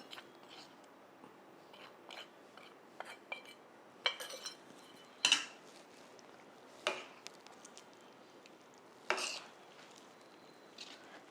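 A metal spoon works through spiced bisibelebath rice mixed with sambar powder in a cooking pot. It gives quiet, scattered clinks and scrapes at an uneven pace, with no talking.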